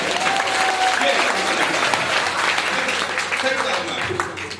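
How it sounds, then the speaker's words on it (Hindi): An audience at a Hindi kavi sammelan poetry recital claps hard with raised hands, a loud, continuous spread of applause with voices mixed in over it. "ताली बजाई हाथ उठा के जोरदार"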